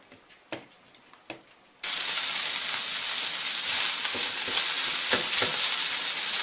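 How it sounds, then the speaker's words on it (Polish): Bacon sizzles and crackles steadily in its own rendered fat in a hot pan, starting quiet with a few pops and then jumping to a loud, continuous frying hiss. "żeby smażyć tylko na tym tłuszczu, który się z boczku wytopi"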